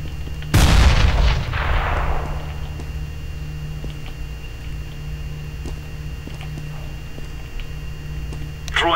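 A single loud, close grenade blast in the first-person shooter CS:GO, a heavy boom with a long rumbling decay over a steady low game-engine drone.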